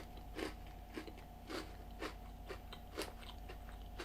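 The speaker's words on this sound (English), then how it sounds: "I'm just going to bite it in half." Crisp bites and crunching chews of a Cadbury chocolate-coated Oreo, about eight distinct crunches in a steady rhythm, close and quiet with no talk.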